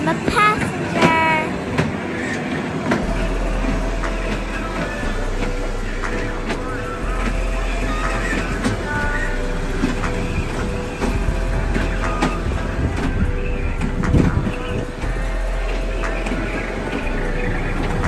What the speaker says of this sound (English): We're gonna ride the train all to ourselves.